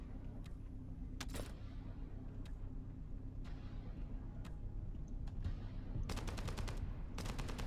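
Automatic weapon fire in the video game The First Descendant comes in faint, quick bursts, with a longer rattling volley near the end as a magazine empties over a low steady rumble.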